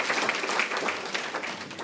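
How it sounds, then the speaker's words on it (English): A round of applause at a leadership awards luncheon, a dense patter of many hands clapping at moderate volume, steady for the short stretch with no speech over it. "Let's give her a round of applause."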